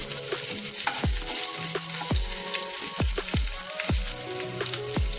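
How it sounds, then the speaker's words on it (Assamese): Chopped onions frying in hot mustard oil for an egg and greens dish: a steady, close sizzle runs throughout, broken by regular knocks and scrapes of a spatula stirring in the pan. "কাটি লোৱা পিঁয়াজখিনি দি লৈ অকণমান ভাজি ল'ম ৰঙা হোৱালৈকে"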